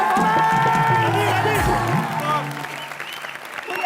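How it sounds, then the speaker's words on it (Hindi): Studio audience applause on a Hindi television comedy show, a loud burst of clapping and crowd noise blended with voices and music that eases slightly toward the end. "जोरदार तालियां"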